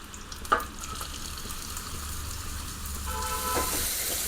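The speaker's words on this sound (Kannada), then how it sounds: "ಸಾಸಿವೆ ಚಿಟಾಪಟ ಅಂತ ಇದೆ ನಾನು ಇದು ಕಟ್ ಮಾಡಿರೋ ಆನಿಯನ್ಸು ಮತ್ತು ಗಾರ್ಲಿಕ್ ಹಾಕ್ಕೊತಾ ಇದ್ದೀನಿ" Mustard seeds splutter and chopped onions and garlic sizzle in hot oil, a steady hiss with a sharp pop near the start and denser crackling toward the end.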